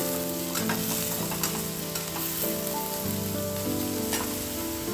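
Long-sliced onions fry in a pan for mentya bhath, giving a steady, close, dense sizzle throughout, with a background melody playing.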